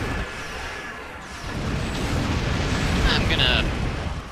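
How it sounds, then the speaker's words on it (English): Mines blowing up in a flight combat video game, a rumbling burst swelling into a sustained roar with a brief bright crackle near the end, voices audible over it. "I was gonna put some mines out, but then they blew up"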